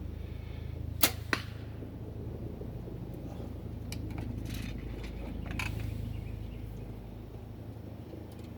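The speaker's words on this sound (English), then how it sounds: "Shooting the Black Eagle Outlaw arrows, not shooting my full metal jackets" A Bowtech Revolt compound bow shoots 405-grain Black Eagle Outlaw arrows at a range: two sharp, close snaps of release and impact about a third of a second apart, then a steady low outdoor rumble.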